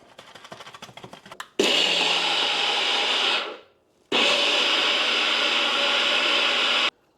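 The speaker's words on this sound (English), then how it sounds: "We're gonna go ahead and add those to the rest of this stuff, and then we're gonna blend it all up" A kitchen blender whirs loudly through suya seasoning ingredients in two sustained bursts, with a short pause between them and a few light clatters beforehand.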